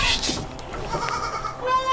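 Etawa dairy goats at a farm sale, one bleating briefly and fairly close among a small group including a large lactating doe and kids, with faint background noise.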